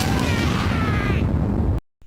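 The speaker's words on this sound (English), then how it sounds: "He can generate huge explosions without the help of any fruits" Explosions from the Artificer character in Brotato pile up into a loud, steady roar of overlapping blasts and pops, close and dense, then cut off abruptly into silence near the end.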